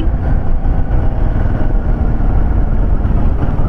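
A Royal Enfield Himalayan 450 motorcycle cruising in sixth gear at about 60, with a loud, steady engine drone and wind rumble that continues without a break.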